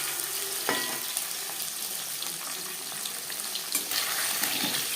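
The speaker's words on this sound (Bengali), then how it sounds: "একটা সাইড ভাজা হয়ে গেলে অপর সাইডটা উল্টে দেবো।" A live shing fish frying in hot oil in a home kitchen, giving a steady close sizzle, with a couple of sharp clatters and a louder burst as it is turned over.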